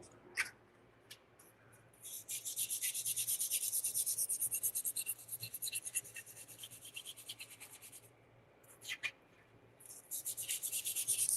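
A piece is rubbed against a tile to roughen it, giving a close dry rasping scrape in long steady back-and-forth bursts with short pauses between them, and no talking.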